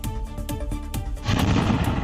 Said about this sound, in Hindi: जिसमें एक के बाद एक कई धमाकों की गूंज सुनाई पड़ी